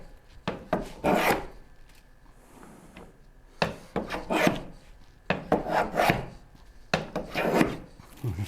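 Bow saw cutting through wood in repeated rasping strokes, loud and close, coming in bursts with short pauses between groups of strokes.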